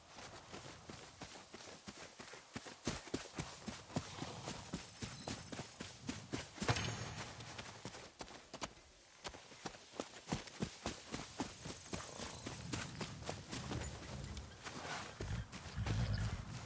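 Horse hooves clip-clop steadily in the Ghost of Yotei video game, a continuous run of even, rhythmic beats that dips briefly midway and then resumes over faint ambient background.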